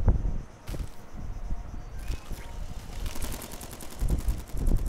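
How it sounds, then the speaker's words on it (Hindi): Rapid bursts of gunfire in the video game King of Crabs, set on a pirate island, with repeated shots clustering near the start and again in the final second over a steady background bed. "बहुत सारी गोलियां चल रही है"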